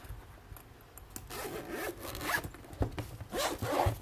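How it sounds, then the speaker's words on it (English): A zipper is drawn open on the travel case for a Feiyutech Vimble 2 gimbal, a few short rasping pulls that build into longer, louder zips near the mic, alone with no talk. "Unzip it."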